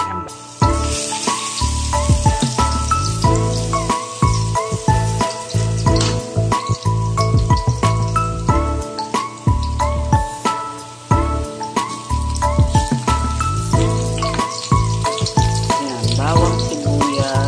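Garlic and onion sautéing in hot oil in a pan, a steady bright sizzle with crackling bursts and clattering stirring throughout, close and fairly loud; layered music plays over it.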